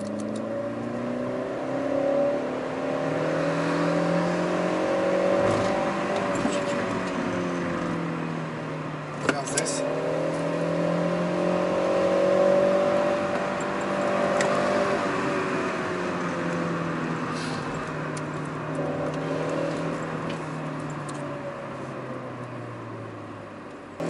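A Skoda Fabia 1.4 running on LPG revs repeatedly, its engine tone rising and falling in long sweeps over about twenty seconds, heard up close with a few brief clicks and knocks in between.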